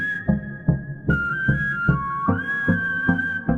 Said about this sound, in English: The whistle proceeds until it reaches its last note